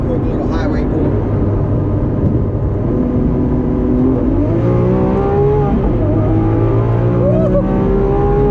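Lamborghini SVJ accelerating hard on a highway, the engine note climbing and rising in pitch as it pulls, loud and sustained from inside the car over road and wind roar, with people talking over it.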